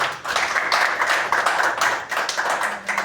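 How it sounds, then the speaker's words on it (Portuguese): A church congregation claps hard and steadily in praise during a worship service, a dense roomful of hands beating in a continuous, slightly uneven rhythm with no voices over it. "Bem forte as palmas para o Rei da Glória."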